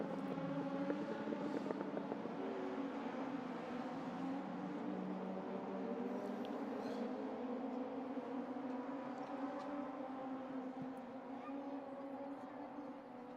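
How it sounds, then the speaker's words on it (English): Z-Tech race cars pass on a circuit during a classic car race, a steady, loud engine drone that holds for the whole stretch, with commentary talk running over it. "distinctive sound of these Z-Techs"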